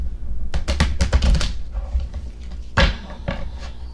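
A deck of oversized oracle cards is riffle shuffled up close, a quick burst of crisp flutters and snaps, a pause, then a second shorter ruffle of cards with a few taps.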